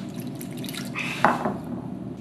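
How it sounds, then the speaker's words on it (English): Liquid chemical poured from a large container into a much smaller one in a laboratory gives a brief splashing trickle with a faint glassy ring, close and soft, over steady room noise. "This lad is going to pour a chemical from a large container into a much smaller one"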